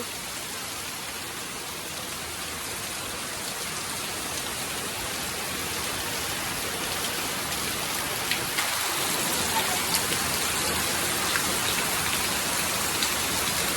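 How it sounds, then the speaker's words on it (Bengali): Steady, dense rain drumming on a tin roof, a continuous hiss with occasional sharper drop hits, no voices. "টিনের চালের বৃষ্টির শব্দ শুনতে কিন্তু ভালোই লাগে।"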